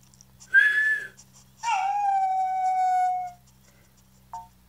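Dog howling in Nintendogs + Cats, a short rising whistle-like call followed by a longer sustained tonal howl that slides down and holds, then a brief chirp, all clean and close.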